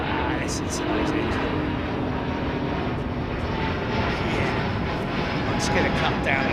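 Jet aircraft engines at London Heathrow Airport, a loud, steady roar sustained throughout, with people talking over it.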